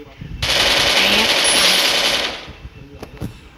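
A long burst of automatic gunfire from the video game Free Fire, loud and continuous for about two seconds, followed by a few scattered shots and game noise.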